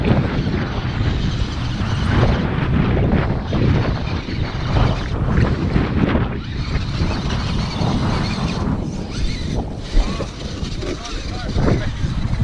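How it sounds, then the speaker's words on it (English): Strong, cold wind on a 50-degree day roars and buffets loudly and continuously against the microphone, with a voice talking through the gusts. "It's 50, but it's fucking windy as shit."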